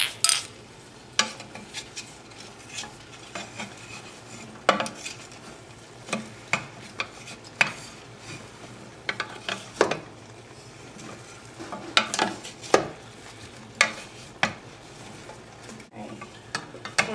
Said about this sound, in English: And then stir.